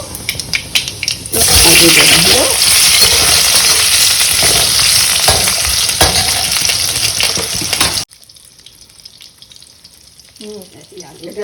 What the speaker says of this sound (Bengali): পাঁচফোড়ন দিয়ে একটু আলুগুলো দিয়ে নাড়াচাড়া করবো